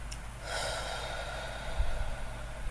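A person yawns during a head-and-chest tapping self-care exercise: one long, breathy, drawn-out exhale that swells and holds for about two seconds, close and moderately loud, with no talking.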